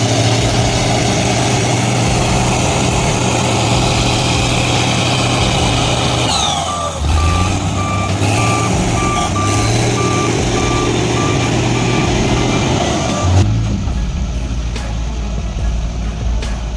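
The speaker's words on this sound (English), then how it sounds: "Who needs a pickup when you've got a road grader to move things around?" A road grader idles with a steady low diesel rumble while its reversing alarm beeps in a regular repeating pattern, loud and close, with no talking.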